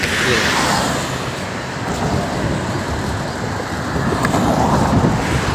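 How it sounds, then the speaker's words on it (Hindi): Dense road traffic crossing a bridge at Port Said, a constant loud roar of passing vehicles with a breezy, rain-like wash and no clear voices. "यहाँ पे गाड़ियों का शोर बहुत ज़्यादा है"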